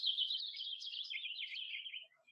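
Four baby birds, nestlings nearly ready to fledge, give a continuous high, thin stream of chirping that wavers slightly and fades out near the end, close and moderately loud with no talking.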